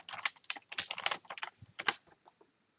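Keys clatter on a computer keyboard as a name is typed, a quick irregular burst of close, crisp clicks that trails off into quiet, with no voices.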